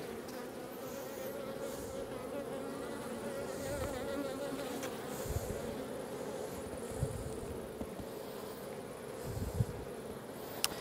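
A dense, continuous hum of many honeybees buzzing close by from an open, classic-style hive, steady and droning, with occasional individual bees passing nearer and a few faint clicks.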